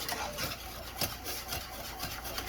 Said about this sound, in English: And I'm just going to continue whisking.